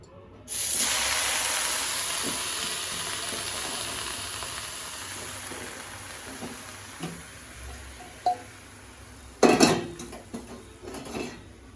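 Leafy greens hit a hot kadai (wok) just emptied of taki fish, village style, setting off a sudden loud, steady hiss and sizzle. Metal utensil clinks and scrapes follow near the end.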